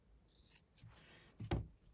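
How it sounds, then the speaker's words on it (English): Scissors cutting fabric for slow-stitched circles in a fabric book, a quiet close snip or two with soft rustling, one sharper cut near the end. "let's just cut this down to size"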